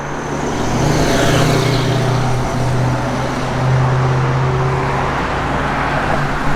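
A 1967 Chevrolet Chevelle SS drives along with a steady, loud engine drone and road noise, the tone rising and falling slightly as it moves, with no talking.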